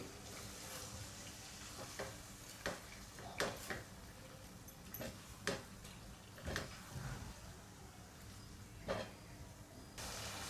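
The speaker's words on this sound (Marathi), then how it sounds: "ही कोलंबी आता मी व्यवस्थित परतवून घेते" Prawns fry in a pan for a prawn biryani under a steady low sizzle, while a spatula scrapes and stirs in irregular clicks and knocks at close range.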